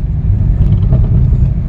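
A car rolls over rumble strips on a flyover in Hyderabad, giving a steady, close, heavy low rumble with road and engine noise and no talking.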